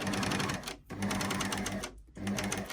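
Sewing machine stitching a fabric seam on a bottle gift bag, a loud close mechanical whirr in fast even bursts, stopping briefly twice before running on again.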